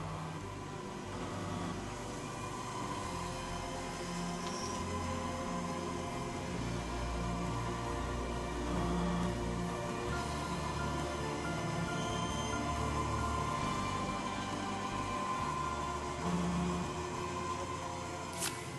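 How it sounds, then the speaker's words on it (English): An altar-bread cutting machine punching sheets of bread into hosts of different sizes runs with a steady mechanical hum and rumble, with faint repeated thumps, alone and without voices. "this machine, which will cut the different sizes of hosts"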